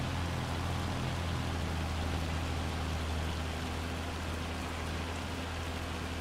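Heavy, hail-like rain in Farming Simulator 25 roars as a steady, dense hiss of pounding drops, unbroken and even throughout with no voices.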